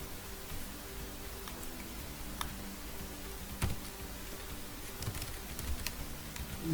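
Someone types on a computer keyboard, producing faint, scattered key clicks at an uneven pace over a steady low room hum, with no voices.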